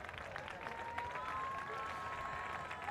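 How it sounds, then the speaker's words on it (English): A crowd in the stands at a beach ultimate frisbee bronze match applauds at a distance. The clapping is faint and spread out, mixed with a whistle-like tone and general crowd murmur. "And nice applause from the crowd."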